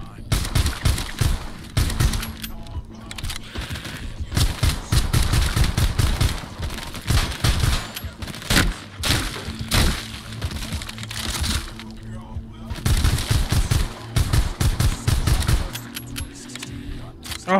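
Rapid bursts of machine gun fire in the VR zombie shooter Arizona Sunshine, dense sharp cracks repeating through the clip with a player shouting and talking over the shooting.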